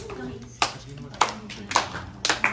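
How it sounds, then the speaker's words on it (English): A group of people clap in a loose icebreaker clap wave at an accessibility camp, sharp separate claps coming in uneven clusters, with some talk underneath. "1 clap, 2 clap. Keep clapping."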